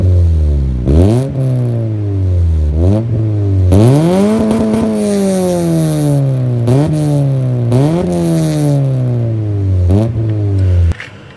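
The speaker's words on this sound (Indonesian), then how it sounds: "Kita dengar knalpotnya." A diecast Toyota Kijang Innova TRD toy car, modeled on a 2015 petrol VVT-i version, plays an engine-and-exhaust sound: repeated revs that surge up and slowly fall back, close and loud, with no talking.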